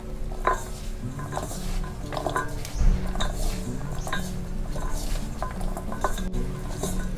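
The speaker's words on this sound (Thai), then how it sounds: "เสร็จแล้วทำการคลุกเคล้าเลยค่ะ ขออนุญาตใช้มือนะคะ" Shredded potato strands are mixed by hand with frying batter in a bowl, giving a continuous close squelching and rustling with occasional light clinks of the bowl.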